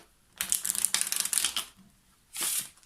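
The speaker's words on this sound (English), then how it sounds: "give the deck a riffle shuffle" A deck of playing cards being riffle shuffled up close: a dense, crisp ripple of flicking cards lasting over a second, then a short bridging whirr as the halves fall together, with no talking.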